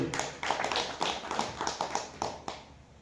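A crowd at a Chaitra Navratri religious discourse claps to welcome a guest, a brief spell of applause with a few louder rhythmic bursts that fades out after about three seconds.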